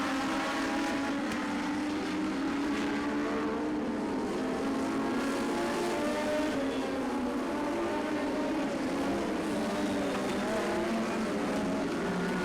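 Race cars lap a track in a steady, continuous engine drone that stays fairly distant and even, with faint shifts in pitch as they pass and no voices over it.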